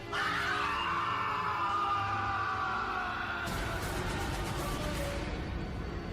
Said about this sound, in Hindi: गले से एक भयानक दर्द भरी तेज चीख पूरे जंगल में गूंजी